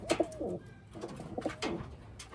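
Pigeons cooing close by, several soft throaty coos in quick succession with short pauses between them. No one speaks.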